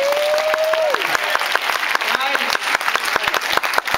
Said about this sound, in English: Clap, make some noise.